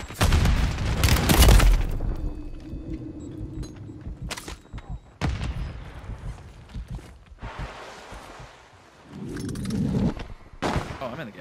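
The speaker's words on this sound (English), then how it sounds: "Oh no! Grenade." Heavy booms and crackling gunfire in a shooter video game, with a loud grenade blast among several bursts of explosive noise spread across the scene, separated by quieter stretches.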